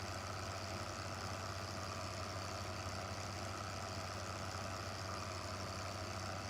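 A tractor engine in Farming Simulator 15 runs at a steady, unchanging drone, low and continuous throughout with no talking.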